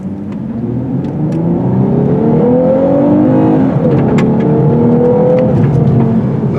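A 2023 Lexus RC350 F Sport AWD pulls hard in Sport Plus mode. The engine note climbs steadily through rising revs and is then held under load, loud and continuous from inside the cabin, with no talking.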